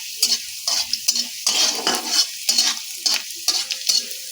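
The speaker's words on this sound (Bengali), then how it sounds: "রসুনগুলোকেও তেলের মধ্যে একটু ভেজে নিচ্ছি।" Garlic cloves fry in oil while a utensil stirs them, giving rhythmic scraping clinks against the pan over a continuous bright sizzle, close and fairly loud.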